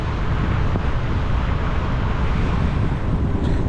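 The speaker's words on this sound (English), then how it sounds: "It is very windy." Heavy wind buffeting the microphone while riding a powerful electric scooter, a constant loud roar with no letup throughout.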